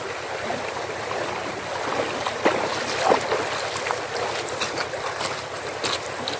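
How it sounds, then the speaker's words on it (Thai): Water of the Mae Sun stream flows steadily near a rice field, a continuous broadband rush with a few brief splashes, fairly close and without talk. "คือ ลำน้ำแม่สูนนะคะ ก็อันนี้เป็น ใกล้ๆกับหัวนาเราค่ะ"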